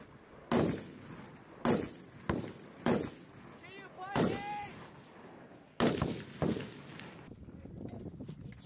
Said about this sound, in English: We've got small arms fire coming from the north side of the breach,